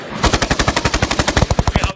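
A loud, close burst of automatic gunfire, roughly twenty evenly spaced shots in quick rhythmic succession.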